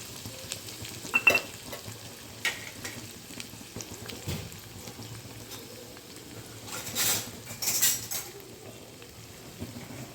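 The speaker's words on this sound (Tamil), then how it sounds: "எண்ணெய் நல்லா சூடாயிருச்சு நம்ம கட் பண்ணி வச்சுருக்க பெரிய வெங்காயம் சேர்த்துக்கலாம்" Chopped large onions, green chilies and curry leaves frying in hot oil for a Kerala-style sardine curry, a steady soft sizzle with occasional louder crackles and stirring scrapes, close and without talk.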